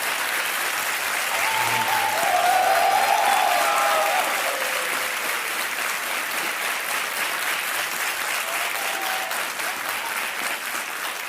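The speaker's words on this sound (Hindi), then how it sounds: "तो आनंद कुमार जी एक बार फिर ताली बजाते हैं इनके लिए" A studio audience on the game show KBC breaks into applause, a dense wash of clapping that peaks early, then carries on at a steady level while faint music plays underneath.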